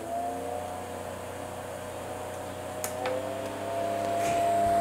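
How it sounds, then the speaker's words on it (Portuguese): A mini evaporative air cooler's small fan runs with a steady low hum and faint whir, close by, with a couple of light clicks partway through. "Esse é o som do ventilador."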